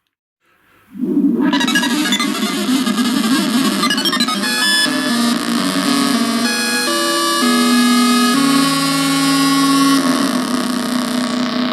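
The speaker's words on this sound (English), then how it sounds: "Let's just magically add a little echo to that." Erica Synths Syntrx synthesizer with an echo effect added, producing a dense, sustained abstract drone with shifting tones and repeating delayed textures, loud and continuous after a quiet start, with no talking.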